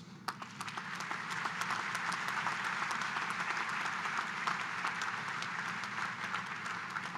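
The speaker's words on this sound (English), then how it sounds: "I think you all deserve a round of applause" A commencement audience at Wentworth's 2021 summer ceremony applauds in a steady, dense wash of clapping that holds evenly for several seconds without any voices.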